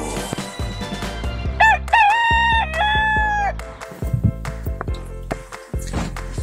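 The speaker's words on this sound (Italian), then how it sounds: "Gallo." A rooster crows loudly over rhythmic background music, a clear rising and falling cock-a-doodle-doo in the middle of the clip.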